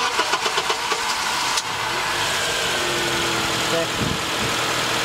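A car engine fitted with a newly installed cold air intake cranks with a few rhythmic turns, catches and settles into a steady, close idle, with a brief spoken word over it.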